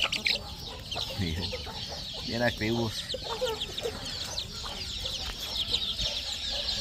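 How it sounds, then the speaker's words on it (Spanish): Chickens and loose chicks cluck busily nearby in an outdoor yard while a person briefly speaks. "Aquí hasta tiene pollitos pelones sueltos."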